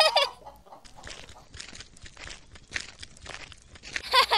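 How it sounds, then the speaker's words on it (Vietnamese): Chickens clucking in a cartoon, repeated squawks and clucks in bursts over rustling, crunchy background noise, with sharper cackles at the start and end. "cuối cùng cũng tìm được một đàn gà béo mẩm"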